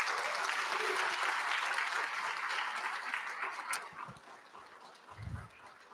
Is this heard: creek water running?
no